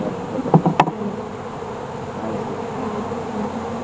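Honey bees buzz at an open beehive during a hive inspection, a steady low drone throughout, with a couple of brief knocks or handling sounds near the start.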